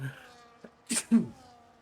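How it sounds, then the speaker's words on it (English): A commentator mid-sneezing fit lets out a sharp, close sneeze followed by a quick breathy second burst, loud against near silence with brief vocal sounds around it. "I'm having a bit of a sneezing fit here."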